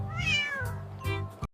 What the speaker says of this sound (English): The cat says meow meow.